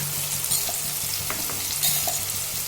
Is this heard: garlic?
yes